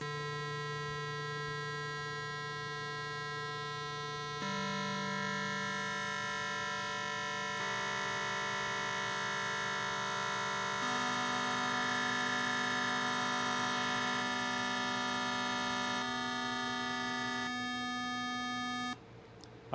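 A synthesizer holds a steady drone of sawtooth waveform notes in an ambient electronic setup, buzzy harmonic tones layering and shifting pitch every few seconds at an even loudness before cutting off near the end, with no talking.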